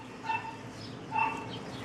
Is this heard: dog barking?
yes